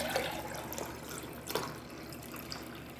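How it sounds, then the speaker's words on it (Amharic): Raisin-soaked water pours into a blender jar in a steady, close splashing stream, with a few brighter drips and gurgles along the way and no voices. "እዛ ይሄን አሁን የዘቢቡ ውሃ እዚህ ጋር ጠለዋለሁ ማለት ነው።"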